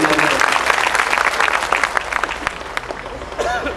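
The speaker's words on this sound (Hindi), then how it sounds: "एक बार जोरदार तालियां बजा के मुझे हौसला देने को" Strong, dense applause from a mushaira crowd in Sherkot, loud at first and thinning into scattered claps toward the end.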